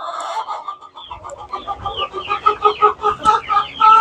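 Hens clucking and chattering in a ranch chicken coop on a bad-weather day, several birds close by, growing busier and louder toward the end.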